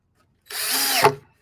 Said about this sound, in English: So now we're just going to drive our screws on in again.